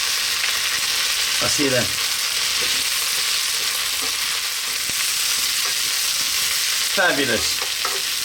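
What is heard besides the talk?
cauliflower frying and being stirred in a pan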